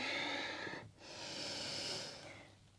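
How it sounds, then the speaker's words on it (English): A full, slow exhale during a yoga session, heard as close breathy airflow that tapers off, followed by a softer second breath, no talking. "When you're ready, exhale fully."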